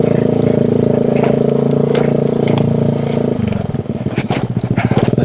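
A motorcycle rides slowly along a rough road toward the Curug Ciarjuna waterfall, its engine droning loud and close, then shifting to a choppy, sputtering putter as it crawls along.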